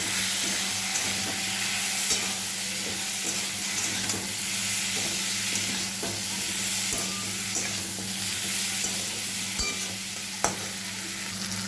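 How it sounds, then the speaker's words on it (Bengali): Prawns with taro and Kashmiri chilli powder stirred in a hot pan, a steady close sizzle with soft scraping stir strokes and the occasional sharp clink, no voices. "একটু কাশ্মীর লঙ্কা গুঁড়ো দেবো, তারপরে একটু নাড়বো।"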